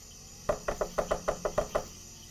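Door knocking in the video game NORCO comes as a rapid run of about nine sharp raps, close and even-paced over a low background hum, with no voices.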